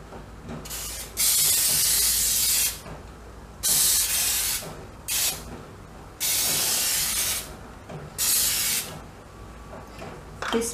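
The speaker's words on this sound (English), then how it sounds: "We are going to use this spray on the baking tray." Cooking spray hisses onto a baking tray for a Christmas fruit cake in several loud, close bursts of roughly one to one and a half seconds each, separated by short quiet pauses.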